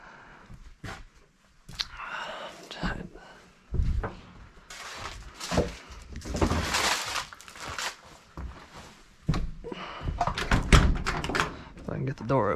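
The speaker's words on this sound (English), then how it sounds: "If I can get the door open." The door of a 1986 Chevy C10 pickup is worked open with several thunks, clunks and metallic rattles, close and uneven, mixed with someone speaking and shuffling sounds.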